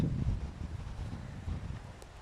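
Wind buffets the microphone with a low, steady rumble and gusty swells throughout.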